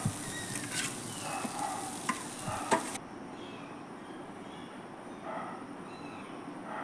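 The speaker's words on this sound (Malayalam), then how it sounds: "എന്നിട്ട് ഇത് നല്ല പോലെ ഒന്ന് ചിക്കി നല്ല ക്രിസ്പിയാക്കി എടുക്കുക" Crushed pappadam tossed into a sautéed mixture and stir-fried until crisp: about three seconds of close sizzle with quick spatula knocks, then it drops to a quieter hiss.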